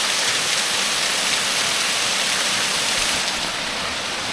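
A waterfall roars as a steady, dense hiss of rushing water, loud and unbroken throughout with no voices.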